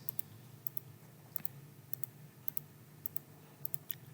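A computer mouse clicks sharply and quietly, about a dozen separate clicks at an uneven pace, each one crisp and close against near silence.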